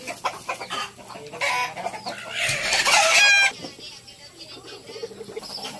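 Native chickens cluck in a busy mix with a rooster crowing loudly midway, set against faint background chatter and farmyard noise.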